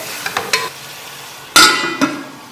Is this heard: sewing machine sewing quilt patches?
no